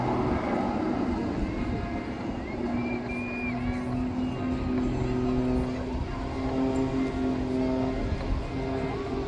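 An aerobatic plane at an airshow by the English Riviera drones steadily at a distance as it spirals down in a flat spin, a continuous engine hum with faint wind and crowd ambience beneath.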